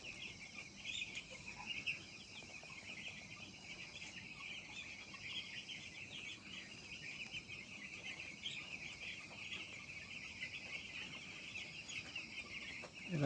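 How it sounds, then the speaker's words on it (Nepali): Week-old poultry chicks peep constantly in a dense, overlapping high-pitched chorus, steady and fairly faint throughout with a little background noise and no clear talk. "सफा सफा छ कुखुराहरू"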